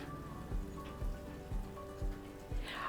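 Soft, steady rain falls outdoors on a deck and a gravel driveway, a quiet, even patter heard from a distance, with faint dull thumps recurring about every half second.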